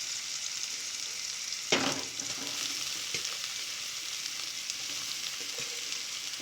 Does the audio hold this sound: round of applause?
no